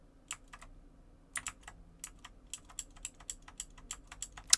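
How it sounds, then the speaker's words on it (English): Rapid, irregular clicking of a computer keyboard and mouse during a Disney Lorcana card game session, crisp and close, with bursts of keystrokes separated by brief pauses. "Sorry for all the clicking noises."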